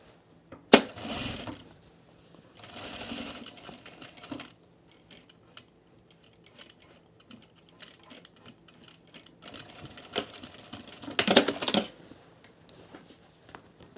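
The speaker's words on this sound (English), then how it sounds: "I'm gonna top stitch this now" Sewing machine top stitching cargo shorts in short bursts of rapid needle clatter, separated by quiet pauses and small handling clicks, close by.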